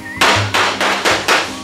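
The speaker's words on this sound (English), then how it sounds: "while I'm hammering this area, I'm also visually looking at it" A hammer strikes the metal body panel of a 1969 Chevelle SS during restoration, five loud, close, ringing blows landing at an even pace, each followed by a brief metallic decay.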